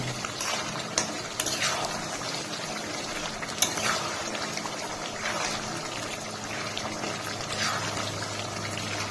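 Chicken skin curry simmering and being stirred after garam masala goes in, with a continuous bubbling hiss and intermittent soft scraping strokes, close and steady, with no speech.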